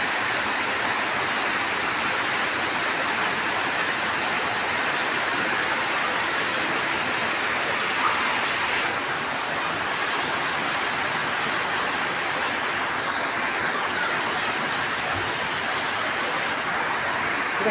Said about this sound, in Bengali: এ দেখেন বৃষ্টি জোরে নেমে গেছে।